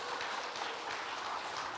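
A church congregation at a Sunday afternoon service applauds the children: a brief, steady wash of many hands clapping at once, moderately loud and unbroken.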